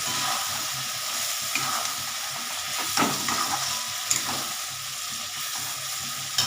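Spices stir-fried in a pan for Bengali cauliflower curry, a steady close sizzle and hiss with occasional scraping stirs, no talking.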